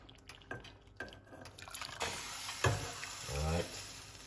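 Hot water poured for rosemary tea, a soft splashing trickle that builds and steadies over a few seconds, close and fairly quiet.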